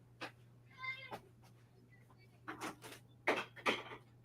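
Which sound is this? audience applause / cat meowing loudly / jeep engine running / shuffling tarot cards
cat meowing loudly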